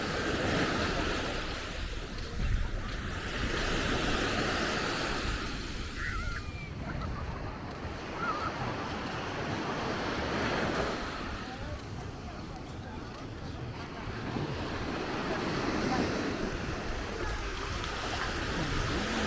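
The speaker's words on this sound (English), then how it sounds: "The tide is coming in, so the sea is approaching the loungers." Sea waves wash onto a sandy beach in a bay at Pattaya, Thailand, as the tide comes in toward the loungers, a steady broadband surf rolling continuously with wind noise on the microphone and no clear breaks.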